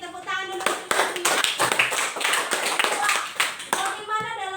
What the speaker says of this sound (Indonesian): Tepuk tangan dulu untuk Claudia.